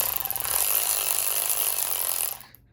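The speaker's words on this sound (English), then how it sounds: "if you just need to use your ratchet as a drill for, you know, a confined space or something" A hand ratchet fitted to work as a drill gives a continuous, close, buzzing whir for a little over two seconds before it stops abruptly.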